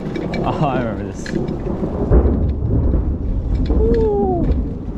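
Rolling thunder rumbles loud and close during a rainy bike ride, a low roar swelling over steady rain hiss, with people talking excitedly and a bird chirping faintly.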